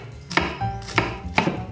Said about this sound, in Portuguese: vou começar picando umas 4 aqui